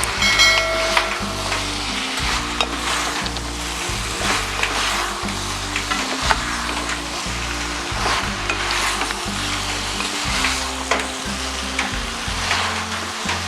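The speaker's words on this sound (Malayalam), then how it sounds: "കബാബ് ഇടുകയാണ്. കബാബ് ഇട്ട് ഇളക്കാം." Seekh kebabs frying in hot oil in a pan, a loud continuous sizzle with repeated stirring and scraping strokes, close up and steady throughout with no talk.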